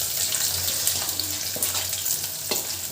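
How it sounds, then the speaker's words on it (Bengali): Onions sizzle and hiss in a frying pan, a close, moderate frying sound with a few faint clinks and stirring noises. "দিয়ে দিচ্ছি পেঁয়াজ।"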